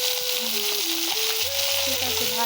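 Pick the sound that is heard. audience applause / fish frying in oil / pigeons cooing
fish frying in oil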